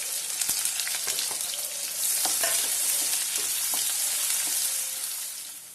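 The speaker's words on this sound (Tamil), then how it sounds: "இப்போ இதில் நான் ஒரு வெங்காயத்தை பொடியாக நறுக்கி வச்சுருக்கேன். இதை நம்ம வதக்குவோம்." Chopped onion sizzles in hot ghee for a prawn ghee roast, a steady crackling fry broken by the scrape and clack of stirring.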